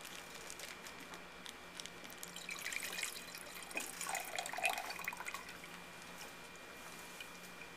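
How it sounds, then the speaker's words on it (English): Water trickles and splashes softly into a glass beaker, a faint pouring sound that swells midway and then tapers off. "pour the liquid water into the glass beaker"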